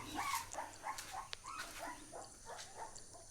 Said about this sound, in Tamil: எட்டு குட்டி போட்டிருக்குது ஐயோ இது தெரு நாய் தாங்க